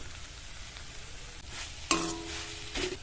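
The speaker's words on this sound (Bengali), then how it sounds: "এলাচ দানার গুঁড়ো দিয়ে 30 থেকে 40 সেকেন্ড মতো নেড়ে চেড়ে নিয়েছি" Sticky coconut filling flavoured with cardamom powder being stirred in a pan, a soft, faint sizzling scrape with a brief metallic clink of the spoon partway through, no talking.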